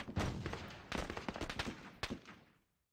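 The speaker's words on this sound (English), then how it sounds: "M60, M16, we're firing everything we got at them" M60 machine gun and M16 rifle fire in a Vietnam War video game set at the Battle of Hue City, rapid overlapping bursts of loud shots that rattle on for a couple of seconds and then stop, with no talk.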